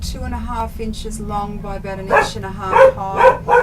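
A pet dog barks in a short run of sharp, fairly close barks toward the end, heard under a person talking steadily at the same time.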